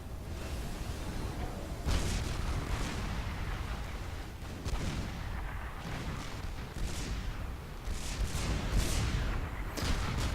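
Twelve artillery batteries in the strategy game Supreme Commander 2 fire in a rumbling barrage, with repeated booming shots and distant explosions layered over a continuous low roar of battle.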